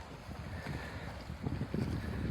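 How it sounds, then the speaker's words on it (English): Gusty wind rushes across open water around a sailing canoe, a steady roar of wind noise on the microphone that swells louder midway, with light water sounds underneath. "Big gust coming across the water there."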